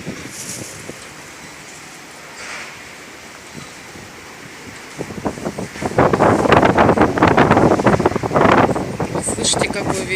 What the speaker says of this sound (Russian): Слышите, какой ветер?